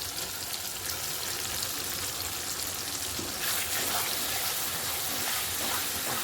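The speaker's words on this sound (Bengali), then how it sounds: "সুন্দর করে কষাই নেব মশলাটা" Spice paste sizzles steadily in a pan for a katla fish curry with taro. The hiss is close, even and continuous, with small crackles and a slight rise partway through.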